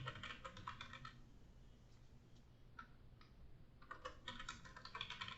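Fingers type on a computer keyboard in quick bursts of close, crisp clicks, with a pause in the middle before a final flurry of keystrokes.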